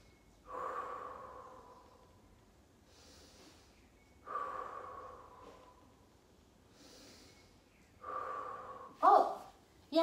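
Three slow, audible breaths taken during a yoga relaxation session, each a soft drawn-out inhale and exhale several seconds apart, with a brief sharper sniff near the end.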